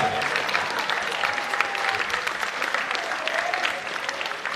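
A festival conference audience keeps up sustained applause, a dense continuous crowd clapping with faint voices now and then, steady and fairly loud throughout.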